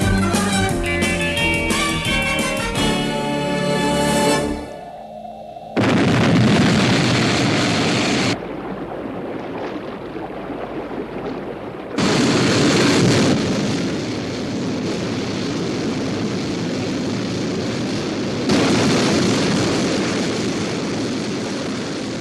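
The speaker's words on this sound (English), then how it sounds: "Stand by for liftoff." A spacecraft liftoff in the UK sci-fi series UFO opens with a musical sting and then becomes a loud, sustained rocket-engine roar that drops briefly, surges back in stages and keeps thundering to the end.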